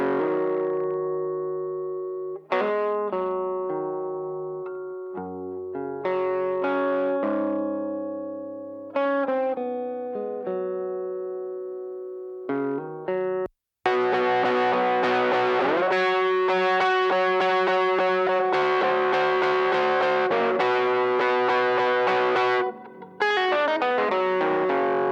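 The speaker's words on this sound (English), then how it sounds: "take a DI of the acoustic guitar, and that DI was running through some kind of overdrive pedal, and I think a slap delay" An acoustic guitar DI signal runs through an overdrive pedal and slap delay, first sparse distorted picked notes and chords, then a denser, brighter strummed section ringing with gritty sustain and short echoes, no voices.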